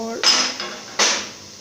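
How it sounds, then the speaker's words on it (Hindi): A metal weight is set onto a pressure cooker lid while tripe (ojhari) cooks, giving two sharp metallic clanks with ringing decay, close and clear with no talk. "ये डाल के अब इसका कुकर का वेट लगा देंगे"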